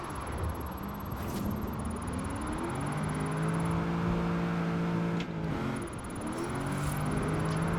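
Engine of an LS-powered drift car in Forza Horizon 4 revving and holding high rpm through a rainy drift, a steady droning whine that rises and dips with throttle, sustained and upfront with no talk.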